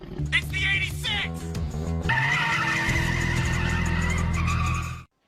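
A Toyota AE86 racing on the Mount Akina mountain pass makes a loud, close engine roar with squealing tires, first a rising whine, then a sustained howl that cuts off abruptly, with a bit of speech at the start.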